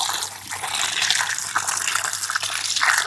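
Water gushes steadily from a tap as fresh tomatoes are rinsed in a kitchen, a continuous splashing pour with small surges, close and fairly loud, with no talking.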